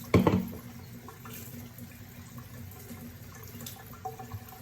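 Tap water runs softly into a sink while a turkey is washed with lime, opening with a brief louder splash and then a steady low trickle throughout.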